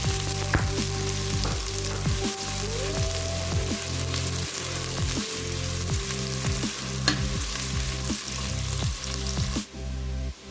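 Sliced onions sizzle steadily in hot oil in a pan while being stirred now and then, a close, continuous frying hiss with scraping strokes, cooked as the start of a mutton yakhni pulao; the sound drops away near the end.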